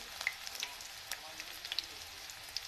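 Tomatoes with green chillies frying in a pan, a quiet steady sizzle with scattered small pops and crackles, heard up close.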